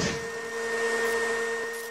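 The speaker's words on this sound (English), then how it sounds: "His smart vacuum cleaner is attacking him!" A smart vacuum cleaner in the video game There Is No Game gives a steady motor whir with a thin high whine, moderately faint and continuous for two seconds, without speech.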